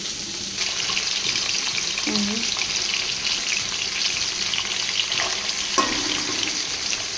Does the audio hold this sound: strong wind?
no